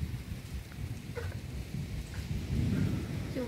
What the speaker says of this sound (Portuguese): Olha quem chegou, ó. Chuvinha.